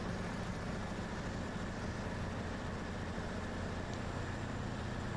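A big yellow road train truck grinds along in SnowRunner with a low, steady diesel engine drone, faint and continuous and without any change in pitch.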